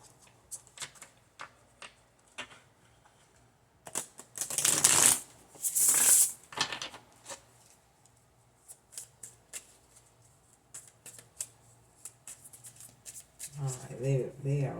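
Tarot cards being shuffled by hand, a series of quick riffling bursts and soft slaps, with two louder crisp shuffles in the middle and a voice speaking briefly near the end.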